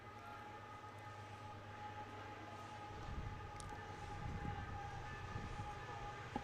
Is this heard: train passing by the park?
yes